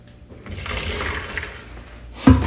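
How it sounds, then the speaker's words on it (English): A gallon jug of vinegar pours in a steady liquid rush for a couple of seconds, ending in a sharper, louder splash near the end, close and alone without talk. "Here's a gallon of vinegar. And I can already tell this is going to get splashy and nasty."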